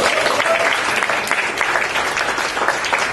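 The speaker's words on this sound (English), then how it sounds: "Round of applause, please." An audience at a community gathering gives a steady round of applause, dense and continuous clapping from a crowd heard fairly close throughout.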